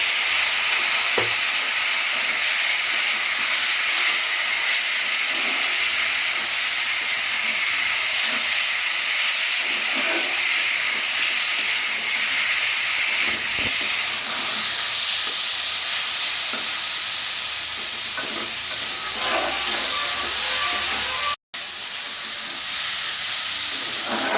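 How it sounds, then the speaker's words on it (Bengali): Malabar spinach and potatoes fry with spices in a pan, giving a loud, continuous, close hissing sizzle with steam and occasional faint stirring scrapes throughout. "পুঁশাকার আলু একসাথে আমি কষতে থাকবো কষে তারপরে জল দেব"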